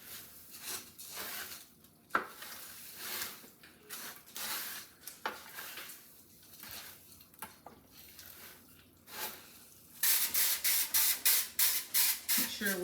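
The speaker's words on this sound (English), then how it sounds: "Make sure we get it good and sprayed." Spray can spraying in a home kitchen while stuffing is being made, a series of short hissing bursts of varying length, then a run of rapid, louder spurts near the end.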